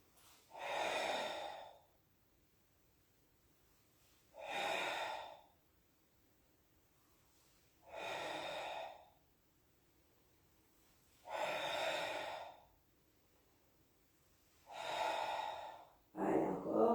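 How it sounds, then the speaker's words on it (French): Slow, deliberate breaths come during a Pilates exercise, with five long audible exhales or sighs spaced a few seconds apart and quiet between them, close to the microphone. "J'inspire, je souffle."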